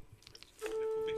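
A telephone busy tone after a call cuts off, a steady electronic beep that starts abruptly halfway through and holds, following brief faint background sounds.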